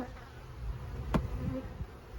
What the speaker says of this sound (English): Don't mind the bees in my trousers